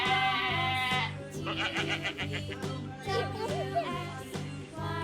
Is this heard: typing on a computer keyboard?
no